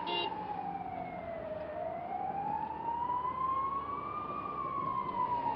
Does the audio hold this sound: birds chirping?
no